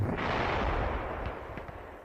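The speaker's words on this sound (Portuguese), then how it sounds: "as metralhadoras soviéticas e alemãs rugiam a quase queima-roupa" Dense battle sound effects of machine-gun fire and grenade blasts, a loud continuous rumbling roar of close-range fighting between Soviet and German troops that eases off slightly toward the end.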